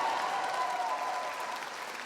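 A rally crowd inside a state capitol's Gold Dome applauds its speakers, producing dense, steady clapping that fills the whole moment and fades slightly toward the end, with no voices over it.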